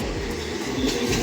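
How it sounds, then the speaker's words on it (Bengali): A passenger train pulls into a railway station with a steady, loud rumble and rolling rail noise that fills the whole stretch, with no voices. "চলো ট্রেনে চলে এসছে, এবার ট্রেনে উঠবো।"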